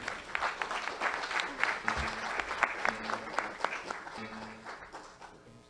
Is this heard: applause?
yes